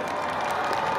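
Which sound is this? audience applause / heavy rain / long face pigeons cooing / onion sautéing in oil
audience applause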